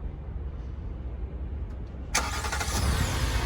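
A Hyundai Palisade engine starts by factory remote start, a faint low idle-like rumble, then a sudden bright crank and catch into a steadier, louder running hum, with no talking.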